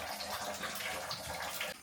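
Water pouring and splashing during a bath for two dogs at a kennel, a soft continuous gushing stream heard close but fairly quiet for a moment.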